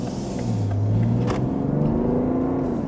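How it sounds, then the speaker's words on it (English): A BMW 530d diesel estate's engine rises steadily in pitch as it accelerates, a smooth, deep drone building close by with no talking. "The 530D the big diesel. It's really powerful."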